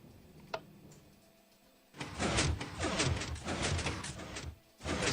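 Heavy stone-block door in a video game build grinding open, a loud continuous dragging rumble lasting about three seconds after a faint click, then briefly resuming.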